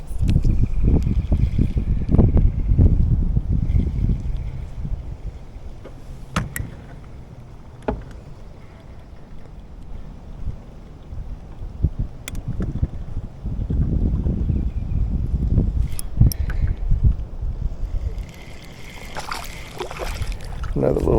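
Wind gusts buffet a fishing boat on the water in low rumbling surges, with occasional knocks and splashes and a person talking.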